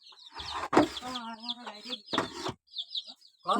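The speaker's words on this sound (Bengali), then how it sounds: "আমার মোরগ অন্য একটা মোরগের সাথে লড়াই করতেছে" Roosters fighting at a home yard in the morning give out a run of loud, close clucks and harsh squawks in short bursts, with brief gaps of quieter rustling between them.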